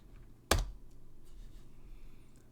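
A single sharp keystroke on a computer keyboard in a quiet room, typed while entering a command in a terminal, with faint background hum and no other keys following.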